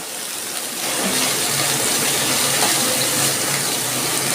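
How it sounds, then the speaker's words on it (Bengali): A little water is poured into a cooking pan holding fried onion, garlic and spice pastes for a potato and eggplant dish with fish roe, a steady close rushing splash that starts abruptly and continues without talk. "এবার আমি অল্প একটু জল দিচ্ছি"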